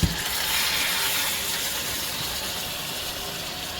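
Marinated mutton for Hyderabadi dum ka gosht hitting hot oil in a pan, a loud burst of hiss that settles into a steady, slowly fading sizzle, close by.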